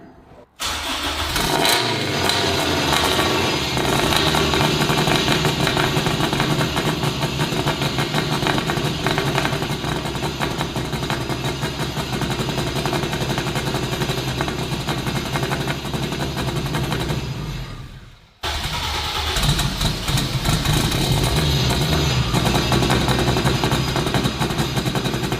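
A rough-running K24 turbo Honda Civic engine with about 600 hp cranks and fires up, then runs loud and uneven up close for a long stretch, cuts out briefly, and restarts.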